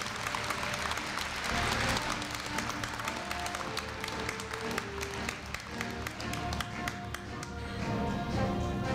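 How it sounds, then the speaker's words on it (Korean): Audience applause at the Korea University 2015 freshman entrance ceremony after a scholarship award, a sustained wash of many hands clapping in a large hall, rising and holding steadily before thinning slightly toward the end. "큰 박수 부탁드립니다."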